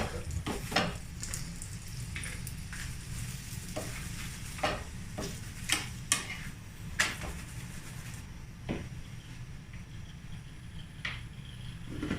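Ghee hits a chapati frying on a hot pan, a continuous close sizzle broken by repeated sharp scrapes and taps of a spatula.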